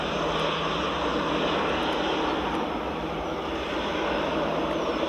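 An easyJet Airbus A320 landing at Edinburgh Airport after a flight from London Gatwick, a loud, dense engine roar with a low hum beneath, steady and close throughout with no talking.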